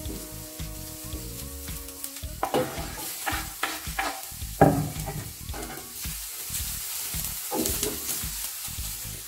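Habanero chile is stirred and fried in a pan for mango salsa, with steady sizzling under repeated scraping and stirring knocks, close and moderately loud.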